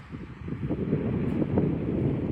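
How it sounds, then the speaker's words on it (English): Steady wind on an island shore with surf buffets the microphone with a low, continuous rumble and roar, with no voices. "You can see it's a pretty windy day."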